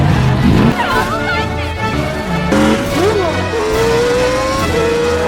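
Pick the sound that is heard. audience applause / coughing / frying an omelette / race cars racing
race cars racing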